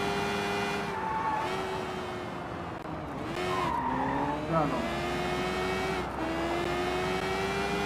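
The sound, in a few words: motorbike riding in Sleeping Dogs video game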